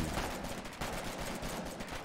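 Continuous volleys of gunfire in the war game Foxhole, dense overlapping rifle and machine-gun bursts forming a steady, loud crackling barrage without talk.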